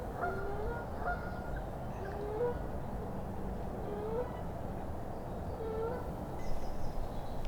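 Geese honking near a swans' nest, several short nasal calls spaced out over constant outdoor rumble and wind, moderately distant.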